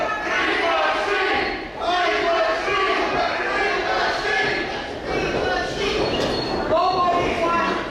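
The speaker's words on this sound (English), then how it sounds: "Now they're cheering for the Green Machine." A wrestling crowd at an independent FTW show cheers and yells loudly in continuous waves, with a brief dip partway through before the roar swells again.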